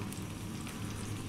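Zucchini frying over high heat in olive oil in a pan makes a dense, continuous sizzle, close and fairly loud throughout a short moment.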